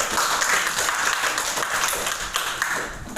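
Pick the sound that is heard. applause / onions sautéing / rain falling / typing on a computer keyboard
applause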